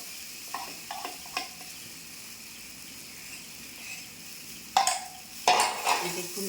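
Soybean chunks and pea lentils stirred in a wok, a faint bed of sizzling broken by a few soft spoon scrapes and then two louder, sharper scraping bursts near the end.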